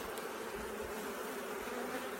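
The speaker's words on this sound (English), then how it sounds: "Quite a few bees in there." Honey bees swarm and buzz steadily around a five-frame nuc box, a soft continuous droning hum close by with no voices.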